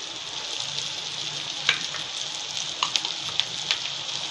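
A ground paste of dried coconut, roasted onion, ginger, garlic and coriander roasts in a hot pan over high flame, giving a steady soft sizzle with scattered small pops and crackles, no talk.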